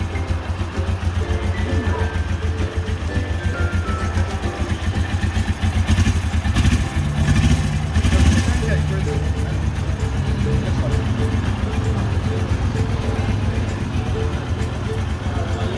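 Small motorcycle engine idling close by, a steady, even chugging throughout with a few brief louder bursts midway, under people talking.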